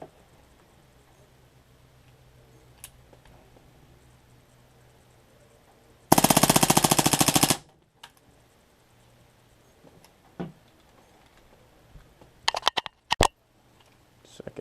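A PFAM98 air gun running on nitrogen fires a single loud, rapid full-auto burst lasting about a second and a half, followed by scattered sharp clicks and handling knocks in a quiet room.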